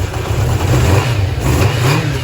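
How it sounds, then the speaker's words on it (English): A Kawasaki ZX400D motorcycle engine, fitted with a new battery and running for the first time in ages, revs loud and close in a continuous rough roar. "A motorcycle engine starting for the first time in ages."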